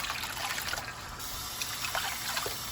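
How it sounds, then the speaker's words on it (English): Room-temperature tap water trickles and splashes while freshly laid eggs are rinsed, a soft, steady running stream with small splashy bursts, fairly quiet and close. "Get some room temperature water, and then I'm just gonna give them one more rinse."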